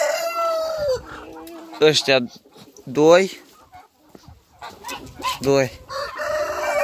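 Roosters on a farm crow and cluck nearby in several loud bursts separated by pauses, with someone talking in between.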